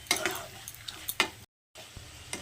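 Chicken sautéing in masala, South Indian chatina style, sizzles under a spoon for a few seconds, with scraping strokes and a short silent break before the soft frying resumes.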